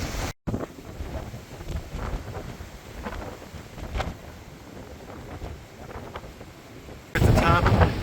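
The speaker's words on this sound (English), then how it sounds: "It's really windy up here." Strong wind on Mount Tibidabo, Barcelona, buffets the microphone in uneven gusts and thumps, growing into a loud roaring blast at the end.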